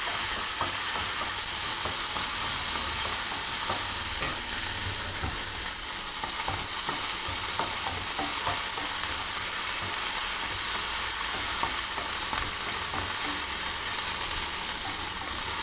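Chopped tomato sizzling in a pan for a curry served with chapati, a continuous steady hiss and crackle at constant level with faint stirring scrapes, no voices.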